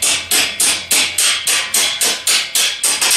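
Steady hammer taps knocking the center column out of a front axle on a Tao Tao CY50-T3 50cc scooter, about ten sharp metallic blows at an even rhythm, close and loud with no talk.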